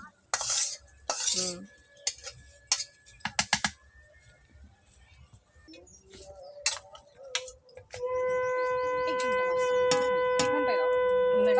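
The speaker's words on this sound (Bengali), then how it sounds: "চালটাকে ভেজে নিচ্ছি" Rice being fried and stirred in a pot for khichuri, with irregular scraping and clinking of a utensil against the pot in the first half, followed by a steady sustained hum.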